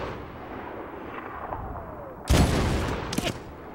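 Gunfire in the video game Medal of Honor: a loud, close burst of shots erupts midway over a steady low ambient rumble, followed a moment later by a second shorter volley.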